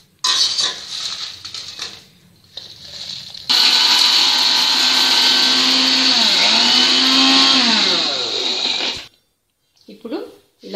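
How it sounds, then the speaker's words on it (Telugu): A mixer grinder pulverises roasted dried red chillies and coriander seeds into powder. Brief clatter of a jar and utensils comes first, then a loud, whining grind that shifts in pitch for about five seconds before cutting off. "బాగా పొడి చేసుకోవాలి"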